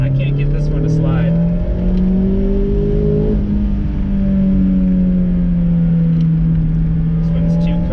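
A Mazda MX-5 sliding around a race track, its engine droning steadily with a wavering pitch as it holds a slide. The car stays fairly close and loud throughout, with faint talk in the background.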